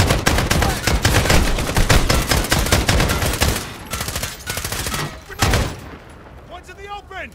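Heavy, sustained automatic gunfire in Call of Duty: Modern Warfare (2019), loud and close, with overlapping rapid bursts that continue almost unbroken before thinning into scattered shots and trailing off.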